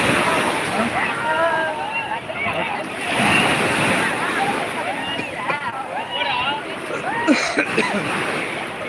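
Sea waves wash continuously along the shore at Rameswaram, a broad hissing surf mixed with wind noise, while someone talks over it throughout.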